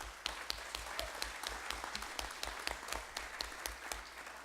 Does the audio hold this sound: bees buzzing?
no